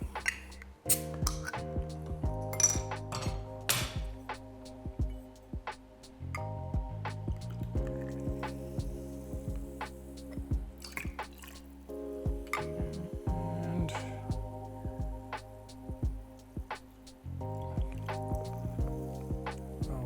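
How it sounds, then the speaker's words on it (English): Tonic water is poured to top off a gin cocktail in a glass, with soft trickling, fizzing and dripping sounds that come in short bursts over a quiet musical background. "we're gonna go ahead and top off with our tonic water"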